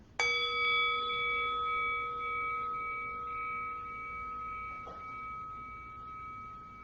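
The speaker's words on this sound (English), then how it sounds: "that sound of the bell had a beginning, a middle, and an end" A meditation bell struck once, its clear ringing tone sounding alone and fading slowly over several seconds into quiet.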